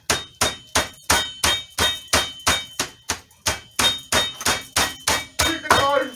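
A hammer pounds raw chicken flat in a kitchen in a steady rhythm, about sixteen firm, dull blows close by, with a faint voice near the end.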